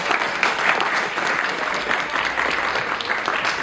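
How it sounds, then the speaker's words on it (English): A crowd at a softball team banquet applauds loudly and densely, a full steady wash of clapping that fills the whole moment without a break. "So let's give a round of applause for the parents."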